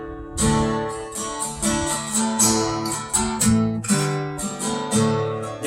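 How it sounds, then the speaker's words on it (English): Chunky, accented guitar power chords on the top three strings strike in a loud, rhythmic pattern, each one ringing briefly before the next. "Again, using those top 3 strings for those power chords there."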